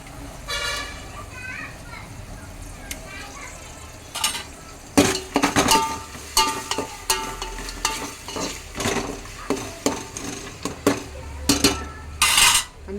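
Chicken, rice and ginger-garlic paste frying in a pot for a country-chicken pulao, stirred with a metal utensil that scrapes and clanks in bursts over a steady sizzle, close by, with a person talking throughout.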